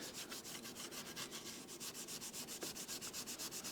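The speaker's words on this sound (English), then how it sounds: "with the Scotch-Brite pad just very gently remove the rest of it." Close, steady back-and-forth scrubbing of a Scotch-Brite pad over a lubricated Żuk engine deck, a quick rhythmic series of even rasping strokes with no other sound.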